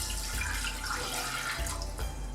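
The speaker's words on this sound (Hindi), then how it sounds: "इसके अंदर हम 1 गिलास पानी डालेंगे।" A glass of water poured into a cooking pan in a kitchen, a brief continuous splashing pour over a low steady hum.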